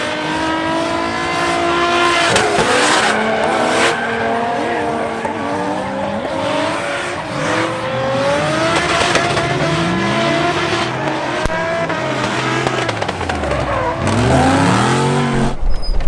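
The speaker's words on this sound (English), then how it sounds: "let's go do some drifting" A Toyota Chaser drifting, its engine screaming and rising and falling in pitch while tires squeal loudly and continuously for the whole stretch, with shifting harmonic sweeps as the car slides and accelerates.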